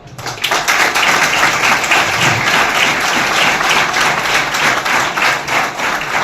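A crowd applauds steadily and loudly throughout, a dense wash of many hands clapping without pause.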